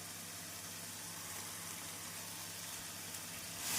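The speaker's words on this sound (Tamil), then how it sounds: "வெங்காயம் இந்த அளவு வதங்கவும்" A steady, even sizzle of onions sautéing in a pan, constant and moderately quiet throughout, with a brief louder rise at the very end.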